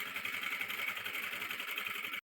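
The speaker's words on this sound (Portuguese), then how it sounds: "nós vamos fazer uma costura aqui em cima para prender esse bolso no forro" A sewing machine runs steadily, stitching a pocket onto the nylon lining of a travel bag, a fast even whirring hum that cuts off abruptly at the end.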